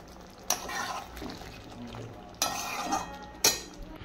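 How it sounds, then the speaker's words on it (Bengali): Boiled mutton is stirred and sautéed with spices and water in a pot, with three distinct spoon scrapes and clanks against the metal amid a soft background sizzle. "এই যে মাটনটা দিয়ে দিলাম সেদ্ধ, এই জলটা দিয়ে এবার এটাকে কষাতে থাকবে"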